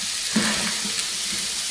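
Lamb frying in a pan for moussaka, a loud close hiss of hot oil with a spatula scraping through it once or twice, no voices present.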